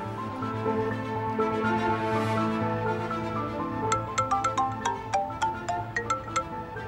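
Mobile phone ringtone from an incoming call, a bright melodic tune that swells steadily and then breaks into rapid repeated chiming notes, played alone and fairly close.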